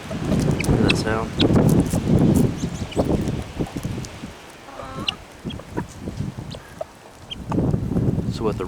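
A rooster clucks to call his hens over to food, making a few low, repeated clucks near the microphone, with wind noise and someone talking over parts of it.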